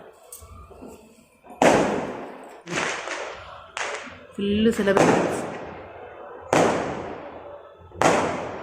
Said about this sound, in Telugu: కొన్ని వేల వేల వేల టపాకాయలు కొడుతున్నారనమాట